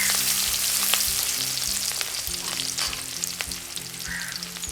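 Onions and green chillies frying in hot oil for a Jaffna-style goat blood fry, giving a steady, close sizzle broken by occasional stirring clicks, with no talking.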